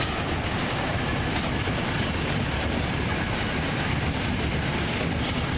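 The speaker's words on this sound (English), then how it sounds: "Ooh, look at the tram up there." A tram rumbles by nearby with a loud, continuous rolling roar and faint rattling of wheels on track, steady from start to finish.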